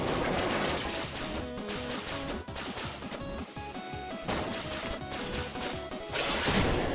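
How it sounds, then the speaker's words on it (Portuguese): Repeated gunfire from the platform video game 20XX, dense rapid shots and crashing impacts layered over loud continuous game music throughout. "O tiro não chega até lá."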